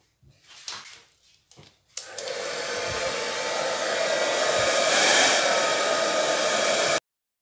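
A hair dryer blows acrylic base colour across a canvas for a fluid-art pour, starting after a few handling knocks and then roaring steadily and close for several seconds before cutting off.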